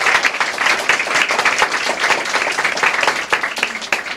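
An audience at a job orientation expo applauds, with dense, steady clapping that fills the whole stretch and swells and dips slightly before tapering off at the end.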